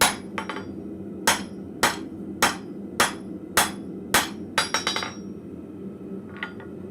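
Blacksmith's hammer striking steel on an anvil at a forge, about a dozen sharp ringing blows in an uneven rhythm, some single and some in quick clusters, close and clear with a low hum beneath.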